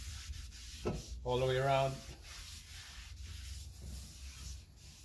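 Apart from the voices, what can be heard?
wiping brake parts with a rag and brake cleaner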